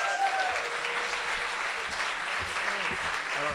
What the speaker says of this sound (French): Faites un maximum d'applaudissements pour Belka, s'il vous plaît.